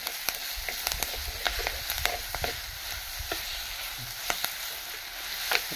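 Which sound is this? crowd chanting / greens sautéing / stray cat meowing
greens sautéing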